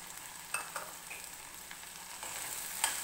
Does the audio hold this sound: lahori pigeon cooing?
no